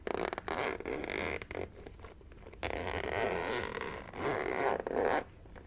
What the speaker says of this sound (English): I hope that that was not too loud of a zipper.